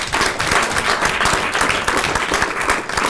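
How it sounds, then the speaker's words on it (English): An audience at a university briefing series applauds loudly in dense, sustained clapping close by, with no talk over it. "Let's have one more round of applause for all the speakers today."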